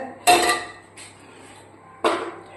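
A wok (cheenachatti) is set down on a gas stove while making green tomato thoran, giving two sharp metallic clanks with a softer knock between, close and without talk.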